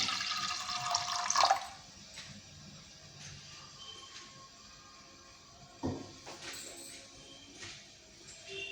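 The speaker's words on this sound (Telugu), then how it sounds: "అదే కప్పుతో 2 కప్పులు వాటర్ పోసుకున్నామండి దీనిలో" Two cups of water splash briefly into a pot of red lentils at the start, then it goes quiet apart from a few faint clinks and knocks.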